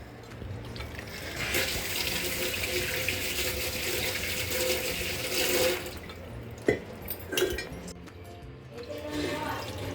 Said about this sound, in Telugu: ఇది చింతపండు పులుసు వేసుకుందాం